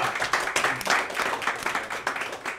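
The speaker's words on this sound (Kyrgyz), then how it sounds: "Кол чабуулар биринчи раундда." An audience at a Kyrgyz aitysh, a live improvised poetry contest, claps steadily in dense, even applause that runs the whole short stretch at a fairly close, full level without letting up.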